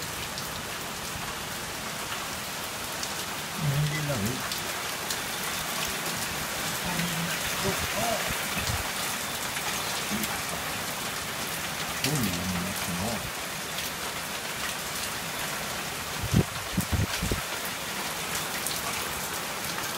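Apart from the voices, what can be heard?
heavy rain falling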